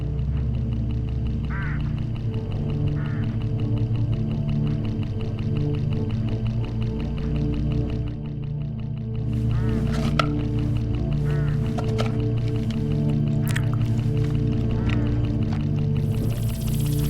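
Birds from the Hitchhiker game give duck-like quacks and honks, scattered and moderately close, over a constant low droning rumble.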